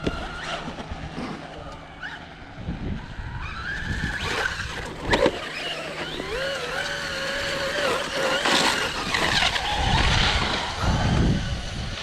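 A Traxxas Rustler VXL 4x4 RC truck drives around outdoors, its electric motor whining and rising and falling in pitch with tire scuffs and skids, while people talk over it.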